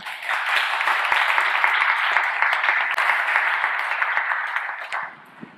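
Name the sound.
church congregation applauding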